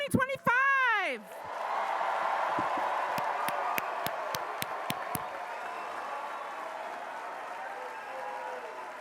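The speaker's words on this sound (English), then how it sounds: "Please join me in a round of applause for the class of 2025." Commencement crowd at a college graduation ceremony applauds the graduating class, a broad steady wash of clapping with scattered cheers. It follows an opening bellowed call and sharp claps and holds at moderate level for several seconds.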